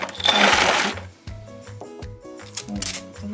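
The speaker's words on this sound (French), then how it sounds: "Donc, vous allez prendre du scotch." Adhesive tape is pulled off its roll close by in a few loud, rasping, screechy bursts with short pauses between them, heard on its own without speech.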